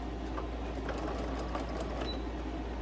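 Sewing machine running steadily while back stitching a laundry room window covering, a constant close mechanical whir with a low hum and no pauses.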